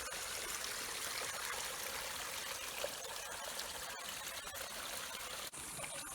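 Continuous close trickle and babble of water running through an irrigation channel that feeds lower paddy fields on a farm, steady and alone.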